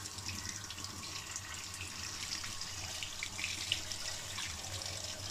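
Running water from a tap rinses a boiler fan motor in a steady, even hiss of flowing water with no talking.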